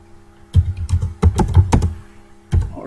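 Computer keyboard being typed on up close: a series of loud, sharp key clicks in short clustered runs with brief pauses, including a final isolated keystroke.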